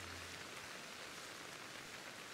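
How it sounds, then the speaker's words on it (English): Rain falling in the video game Pokémon Legends: Arceus, a soft continuous hiss of steady rainfall, quiet and even throughout with no voices. "There's some rain, but it just looks like simple rain."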